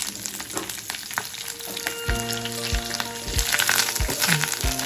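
Steady frying sizzle of garlic in a pan for dried anchovy fry, with occasional scraping and clinking as the food is stirred; no talking.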